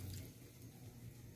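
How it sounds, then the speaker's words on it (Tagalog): Water pours steadily into a cooking pot of sautéed mung beans, ginisang mongo with bitter gourd leaves, a soft, continuous rushing that stays fairly faint and even throughout. "At pagkatapos nga nitong paghalo ay lagyan natin ito ng tubig."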